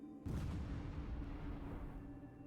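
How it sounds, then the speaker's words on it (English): A distant explosion in the post-apocalyptic arctic survival game Arcticide booms once, then its rumbling roll fades slowly over a couple of seconds. "There's just an explosion somewhere over there."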